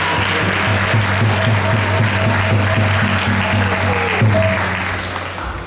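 A congregation claps steadily at ISKCON Toronto's Sunday Feast after a lecture, a thick continuous roar of hands over sustained instrumental tones, holding strong before tapering slightly at the end.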